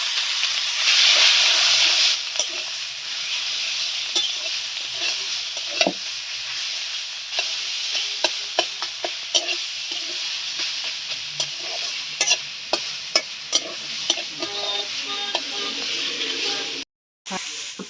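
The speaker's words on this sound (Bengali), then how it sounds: "শাকটা দিয়ে ভালো করে ভাজা ভাজা করে নিলাম।" Spinach stir-fried in a pan with garlic and dried chilli, a steady close sizzle and hiss with frequent scraping and stirring clicks from a utensil throughout, briefly dropping out near the end.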